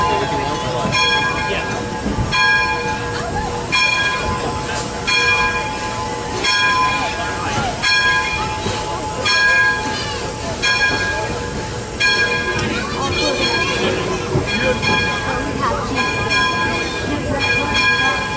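The Fillmore steam train runs with a loud, continuous rumble and rattle of rolling cars. Ringing bell-like tones and occasional clanks sound over it, and people talk nearby.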